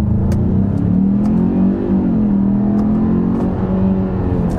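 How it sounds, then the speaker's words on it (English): A 2021 Genesis G80 2.5T AWD accelerates hard in first gear under manual shifting. Its turbocharged four-cylinder engine revs loud and close as the pitch climbs steadily, dips slightly and climbs again. "Trying acceleration here with the manual shifting."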